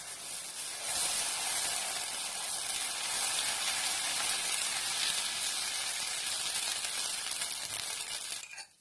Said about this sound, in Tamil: இப்போ நம்ம தோசை ஊத்திடலாம்.